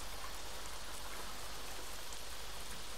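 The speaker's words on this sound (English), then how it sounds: "Oh, it's rainy." Steady rain falls in American Truck Simulator while driving in Montana, a dense, even hiss of drops filling the clip without pause or voices.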